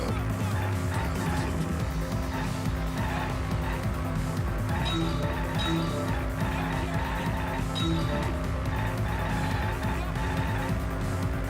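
Cars racing along a road in the video game Danganronpa V3, a continuous loud engine roar with repeated tire squeals and skids, steady and dense throughout.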